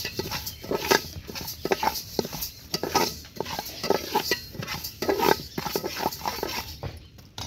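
Fenugreek seeds roasting lightly in a pan while being stirred, a steady run of scraping and clinking strokes at close range, loud and continuous with no voices.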